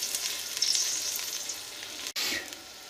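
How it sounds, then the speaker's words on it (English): Stock made from a stock cube is poured into a pan of frying pork, giving a steady hiss and sizzle, then a brief cutoff and a fresh burst of bubbling as the liquid hits the hot pan. "I'm now going to add a little bit of stock made from the stock cube."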